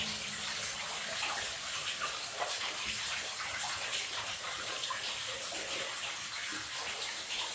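Water sloshes and churns continuously as someone wades into chest-deep water in a flooded 1900 mine passage, a steady close splashing wash with no talk.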